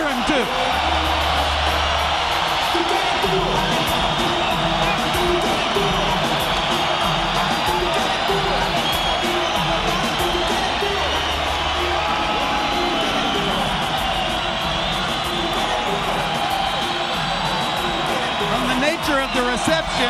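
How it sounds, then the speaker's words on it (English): Large boxing arena crowd cheering for Miguel Cotto at the Cotto vs Corley fight, a sustained loud roar filling the whole stretch beneath an announcer's voice. "they're here to cheer him too"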